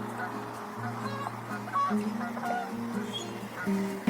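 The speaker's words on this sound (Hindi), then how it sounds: "डक्स भी आ गई." Ducks honk and quack at a pond, several calls overlapping at a moderate distance over a constant outdoor background hum, with no talk over them.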